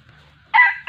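A junglefowl rooster crows loud and close, a short strained burst that cuts in abruptly over a quiet background, followed by the start of a second call.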